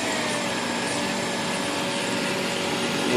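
A car alternator spins steadily at a low idle rotor speed, giving a constant, loud broadband whir with a faint hum that holds unchanged throughout.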